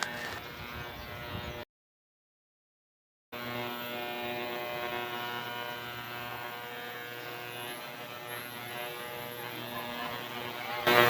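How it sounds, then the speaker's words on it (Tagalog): An ultrasonic cleaner runs with a steady electric hum and buzz while it cleans a carbon-fouled throttle body. The hum cuts out briefly to silence, then continues at an even level. "Legit ultrasonic cleaner."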